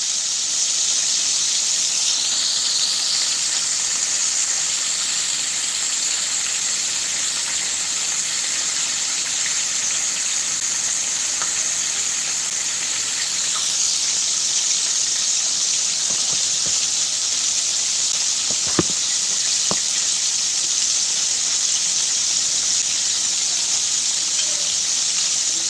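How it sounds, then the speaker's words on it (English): Tilapia fillets frying in hot oil in a home kitchen, a steady loud sizzling hiss that holds for the whole stretch, with a few brief clicks near the end. "The fish frying"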